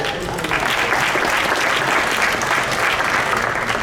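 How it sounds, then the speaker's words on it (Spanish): An audience applauds a guest being welcomed at a centenary tribute event for Victoria Santa Cruz, dense steady clapping from a full room that holds evenly throughout. "Luis, bienvenido y aplausos para él."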